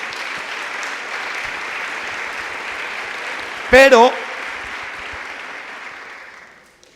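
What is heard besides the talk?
audience applause for the women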